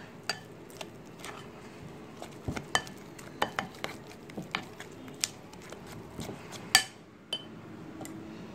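Close, irregular clinks and scrapes of a utensil stirring shrimp fritter batter in a bowl, the taps coming in uneven bursts of varying loudness with no talking.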